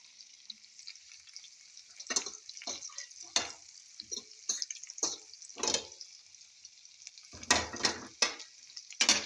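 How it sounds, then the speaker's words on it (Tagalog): Bitter gourd and egg fry in a pan with a steady hiss, broken by louder crackles and the scrape and clatter of stirring. "After frying or cooking bitter gourd with egg"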